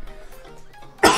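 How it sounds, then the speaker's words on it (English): A man's cough, one loud, sudden burst near the close, following a stretch of quieter background sound. "Man, got me coughing"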